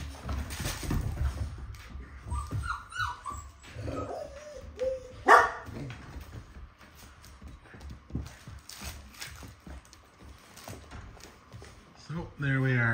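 American Bulldog puppies yip and bark in short bursts, scattered among clattering and people talking nearby.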